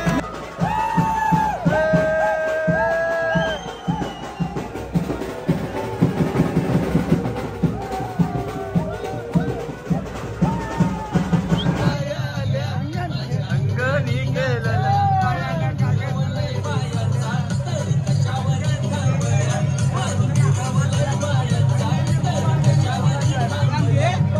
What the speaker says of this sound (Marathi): कारल्या डोंगरावर जल्लोष बघा